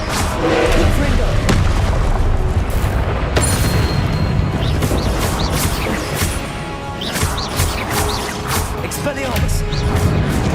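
Confringo blasting spell in the Hogwarts Legacy video game, loud booming blasts and crashing impacts layered over busy combat noise and whooshing spell effects, continuous throughout with a player's voice talking over it.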